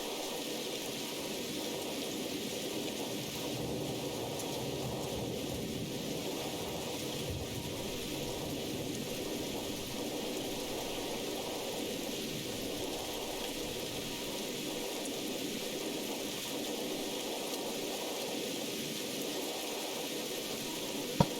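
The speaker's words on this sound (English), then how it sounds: "The storm has picked up, so you'd better run in before you get soaked." Steady rainstorm in a video game: a constant hiss of heavy rain, even and unbroken throughout, with no voices.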